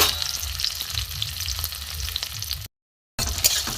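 Chopped tomato and green chilli frying on low gas, a close continuous sizzle with light crackles, briefly cut to silence before resuming.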